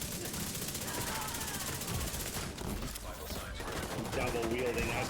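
Rapid SMG gunfire fills a first-person shooter video game, dense continuous bursts layered with game effects and background noise.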